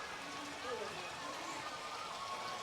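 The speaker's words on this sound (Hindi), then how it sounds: "ये नेचुरल ओरिजिनल ये है जो गौमुख जलधार" Natural spring water at Gaumukh in Chittorgarh Fort falls in a steady, soft splashing wash, faint and continuous, with voices talking underneath.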